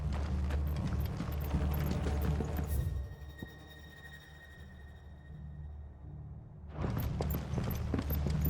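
Horse hooves clip-clop steadily in the video game Final Fantasy XVI, a rhythmic trotting patter that drops away to a quieter ambient stretch before the hoofbeats return, with no voices.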